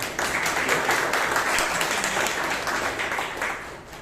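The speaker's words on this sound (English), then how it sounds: "Come on, give him a round of applause." Applause from an audience at a Toastmasters club meeting in Bangalore, a dense steady patter of many hands clapping at moderate loudness, sustained for about four seconds and tapering slightly at the end.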